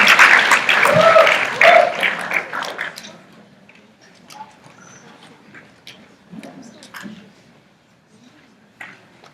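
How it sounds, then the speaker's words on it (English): A crowd at a community night claps and cheers for singers about to perform; the applause is loud for about three seconds, then fades into scattered claps and quiet room murmur. "So everybody, just give them a loud round of applause"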